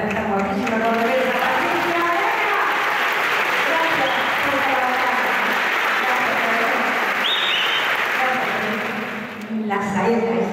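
Sustained, dense applause from a gala audience at the Real Círculo de la Amistad in Córdoba, steady and full for about ten seconds before tapering off.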